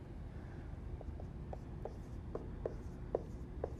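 Numerals written on a board, heard as a faint series of short, evenly spaced taps and strokes in a quiet room.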